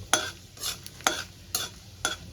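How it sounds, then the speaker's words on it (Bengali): Spice paste hits hot oil tempered with dried red chillies and nigella seeds for a catla fish curry, sizzling close up while a spoon stirs in four quick, evenly spaced strokes. "দিয়ে মশলার পেস্টটা আমি ঢেলে দেবো"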